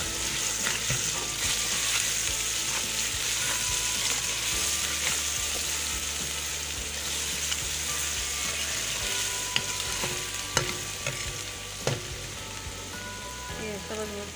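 Garlic ginger paste frying in a pan for aloo matar sabzi gives a steady, close crackling sizzle with occasional stirring clicks and pops, and no voices over it.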